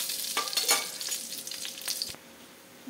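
Dried red chilli, bay leaf and whole garam masala spices crackle in hot oil left from frying fish for a Bengali prawn malai curry. The sizzle is close and busy, sharp pops over a hiss, then quiets abruptly near the end.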